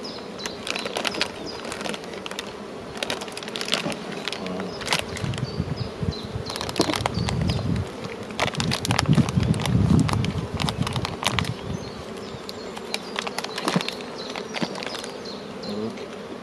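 Honeybees buzzing at a beehive in winter while the colony is fed a supplement, a dense, continuous hum from many insects close by that swells and fades slightly.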